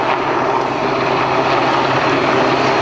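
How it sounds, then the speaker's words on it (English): A Belgian Air Component Sea King search and rescue helicopter of 48 Squadron flies at an airshow, its loud, steady engine and rotor roar filling every moment at close range. "Is the Belgian air component, Comops Air Search and Rescue 48 Squadron and the Sea King helicopter."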